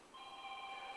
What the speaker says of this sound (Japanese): これって事務所の電話